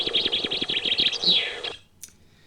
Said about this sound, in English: So here's normal chaffinch song.